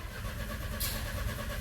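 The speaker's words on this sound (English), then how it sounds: "start engine again" A diesel Renault Trafic van engine cranks and catches in a workshop, a brief, loud mechanical churn settling into a steady running rumble with no talk.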